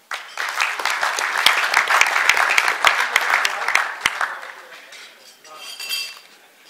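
Audience clapping at a business marketing presentation: dense, close applause with sharp individual claps that swells for about four seconds, then thins and fades, with a brief late burst before dying out.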